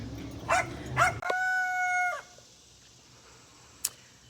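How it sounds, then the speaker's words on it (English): A rooster crows loudly and close by, preceded by a couple of short dog barks; afterward it falls quiet with one faint distant bark. "Between the rooster and the dogs"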